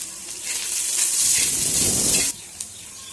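Chopped garlic, green chillies and kokum sauté in a pan for okra bhaji, a soft swelling sizzle and hiss close by that builds for about two seconds, then drops away abruptly.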